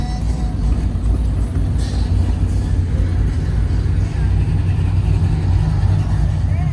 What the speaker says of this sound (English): This is like a parade coming out through here with all these nice cars.